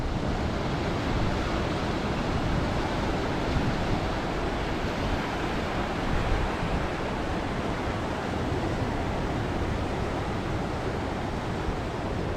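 Waves break steadily on a secluded hideaway beach, a dense, continuous roar of surf mixed with wind across the microphone, loud and unbroken with no voices.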